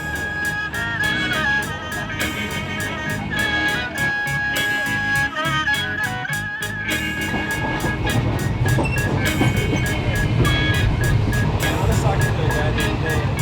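Loud, steady rumble and rattle inside a passenger train riding from Bangkok to Ayutthaya, with rhythmic clicking of the wheels over the rails and constant carriage noise throughout.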